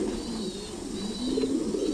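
Thai Titan meat pigeons give soft, low throaty coos, close and fairly quiet, with a faint hum underneath and no voices.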